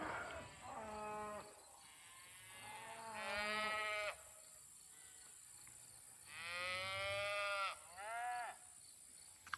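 Cows moo in long, loud calls, two clear bellows with a shorter low call before each, the herd fairly close with quiet pauses between.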